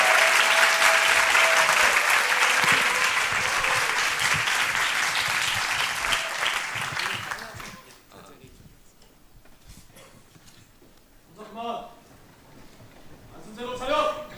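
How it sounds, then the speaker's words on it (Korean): Loud, dense applause from a crowd fills the first half, then fades out, leaving quieter room noise with a few brief voices. "큰 박수로 모시겠습니다"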